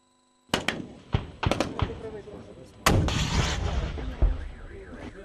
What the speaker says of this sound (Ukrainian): вибухи, гарматна черга, стрілкові залпи